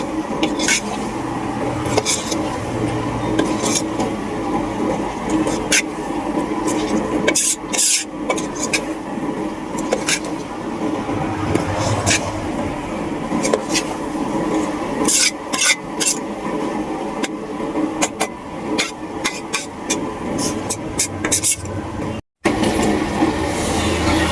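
A spoon stirs kali flower chundal curry in a cooking pot, making close, repeated scraping and clinking against the metal in an uneven rhythm throughout, with a few brief pauses.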